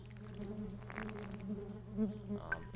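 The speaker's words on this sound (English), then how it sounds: "Those are bees." Buzzing bees in the video game Genital Jousting, a steady droning hum running through the whole stretch at a moderate level, with a few brighter blips from game effects.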